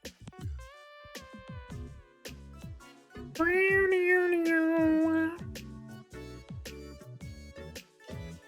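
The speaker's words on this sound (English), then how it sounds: "Oh, hello, Ming Ming. My cat, you just got up on my desk." Pet cat Ming Ming meows on a desk: several short meows early on, then one long, loud, drawn-out meow near the middle, followed by more brief meows and faint background sounds.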